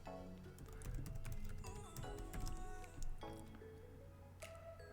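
Terminal commands being typed on a computer keyboard, a quick run of close, crisp key clicks with short pauses and a few sharper taps.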